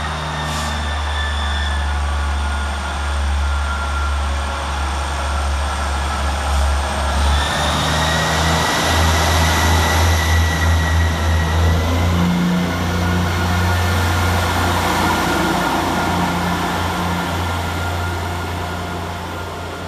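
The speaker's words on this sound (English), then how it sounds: "we'll get started here at Edinburgh Gateway with 158738, working the 1009 Scotrail service from Glenrothes with Thornton to Edinburgh" A ScotRail Class 158 diesel train at Edinburgh Gateway station, its engine throbbing loudly and nearby, with rising whining tones as it moves through the platform.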